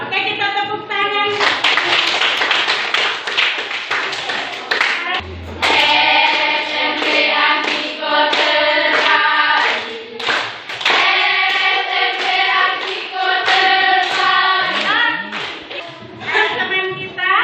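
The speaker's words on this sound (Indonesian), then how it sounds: "Oke, kita tepuk tangan." A classroom group claps together during an Indonesian teaching session, a steady, loud, rhythmic patter of many hands that runs continuously for a long stretch with brief dips.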